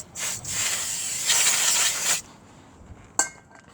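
Brake cleaner sprayed onto a Ford Ka front brake hub in two close hissing bursts, a short one then a longer one, followed by quiet and a faint metallic clink.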